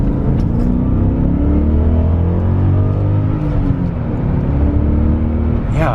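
A BMW E39 M5 rolling out and picking up speed, a steady, loud engine drone and rumble heard from inside the car, rising slightly in pitch, with no talking.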